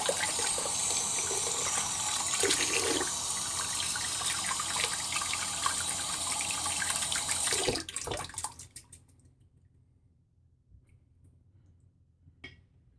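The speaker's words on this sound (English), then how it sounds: "Now I'm going to rinse out my brush." A shaving brush is rinsed under a running bathroom tap, a steady loud stream of water for several seconds that then cuts off, leaving near silence with a brief faint clink near the end.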